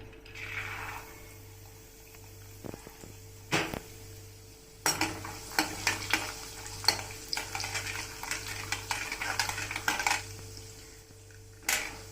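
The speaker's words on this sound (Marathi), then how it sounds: "शेंगदाणे चांगले तळून घ्यायचे।" Peanuts fry in oil for murmura chivda, with a soft background sizzle. A spoon repeatedly scrapes and clinks against the pan as they are stirred, in irregular close taps and scrapes.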